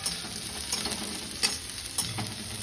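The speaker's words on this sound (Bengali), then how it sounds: "এটা আবার ভাজাভাজি করব" Chopped garlic, ginger and green chili frying in a pan, a steady soft sizzle with occasional stirring scrapes and clicks, close and alone without talk.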